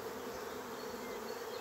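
A honeybee swarm sets up a continuous dense buzzing, an even, unbroken drone that fills the space at steady loudness, with no voices.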